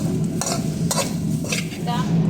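Sweet coconut filling for kajjikayalu being stirred and lightly fried in a pan, a continuous close sizzle with regular scraping strokes of the spoon every half second or so.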